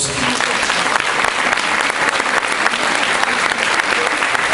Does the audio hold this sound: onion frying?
no